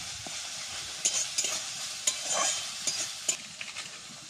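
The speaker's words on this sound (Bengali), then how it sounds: "এবার সব একসাথে ভালো করে আমি কষাবো।" Stuffed pointed gourd being stir-fried with cumin and chili powder in a pan, with a steady sizzle broken by sharp spatula clanks and scrapes.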